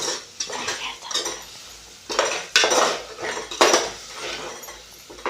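Garam masala and biryani masala powder fried in a pan for vegetable biryani, heard mostly as loud, close metal spoon scrapes and clanks against the pan in irregular bursts, with little audible sizzle.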